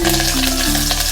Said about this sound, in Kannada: ಎಣ್ಣೆ ಬಿಸಿ ಆದಮೇಲೆ ಸಾಸಿವೆ ಹಾಕ್ಕೊಳ್ತಾ ಇದ್ದೀನಿ. ಸಾಸಿವೆ ಚಟ್ ಅಂತ ಇದೆ.